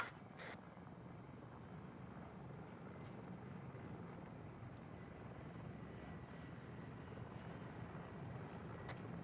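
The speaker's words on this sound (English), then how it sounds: "Helo approaching from the south. Keep low. It's another hind." An Mi-24 Hind helicopter in the game Arma 3 approaches as a steady, broad rotor and engine drone that holds at a constant level throughout, with no voices over it.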